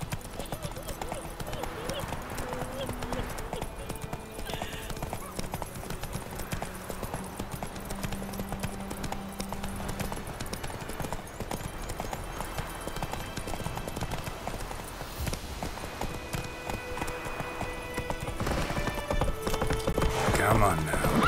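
A horse's hooves clip-clop at a steady run in the video game The Witcher 3, a continuous rhythmic drumming under game ambience, with a voice speaking briefly over it.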